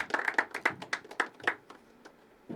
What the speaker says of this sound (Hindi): जब तक स्टेज पे नहीं आते तब तक तालियां बजाती रहनी चाहिए।